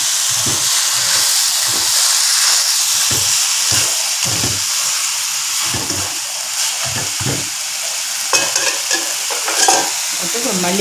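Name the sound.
potatoes frying and being stirred in a pan for mutton karipap filling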